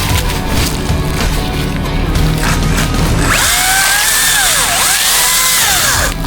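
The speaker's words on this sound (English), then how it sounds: "Makita. Battery. Chainsaws." A Makita battery chainsaw cuts melaleuca wood. Loud rough cutting and splintering gives way to the whining electric motor rising and falling as the blade works through the wood.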